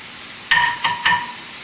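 Ghee fries in a pan while sambar is being made, giving a steady high hiss with a few brief stirring scrapes over it, close by and with no voices.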